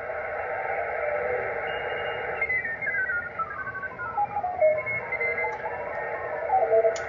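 Amateur HF radio signal received in upper sideband, a steady band of hiss with drifting whistling tones sliding downward, continuous and moderately loud with no talking.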